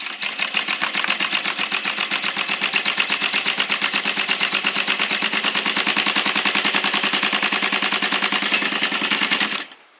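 A sewing machine stitches a car trash can bag at a fast, steady mechanical clatter, running nonstop for nearly ten seconds before stopping abruptly.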